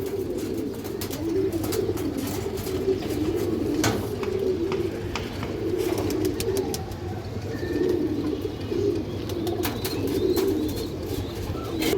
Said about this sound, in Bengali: এই যে দেখেন বড় সাইজের একটা মাদি কবুতর